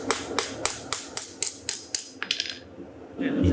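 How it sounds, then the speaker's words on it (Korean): Rapid, evenly spaced hammer blows strike a copper-and-steel knife blade that bent during its first heat treatment, around ten sharp metallic hits in quick rhythm before a brief scraping sound. "1차 열처리 과정에서 칼이 휘어질 수 있기에 망치로 때려서 모양을 잡아줍니다."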